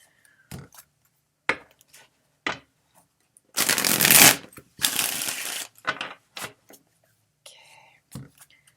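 Tarot cards shuffled by hand in a few scattered short riffles, with two longer, louder bursts of riffling near the middle, close and crisp with quiet pauses between.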